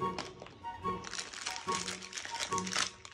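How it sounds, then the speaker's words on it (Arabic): A bag of chicken-flavored chips crinkles and rustles up close in a run of irregular crackling bursts, with people talking underneath. "ده كيس شيبسي بالفراخ طعمه جامد بشكل"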